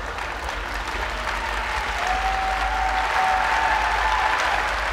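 A crowd cheers and applauds steadily at a women's 400m freestyle S9 swimming race at the ASEAN games, a continuous, loud wash of clapping and crowd noise with a faint whistle-like tone above it.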